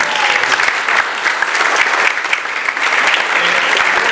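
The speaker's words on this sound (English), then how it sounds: "let's give Congressman Gallegly a big round of applause" Loud, close applause from the audience at a Republican Women Federated candidates night in Camarillo, a dense continuous clatter of many hands held at full strength throughout, with faint crowd murmur underneath.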